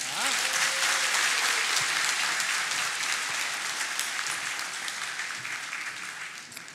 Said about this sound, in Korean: 우리 출산 장려금 드릴 때 우리 박수해 주시기 바랍니다